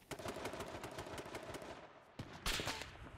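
Gunfire in the battle royale video game H1Z1 King of the Kill: rapid, fairly quiet bursts of shots crackle through the stretch, with a louder volley near the end.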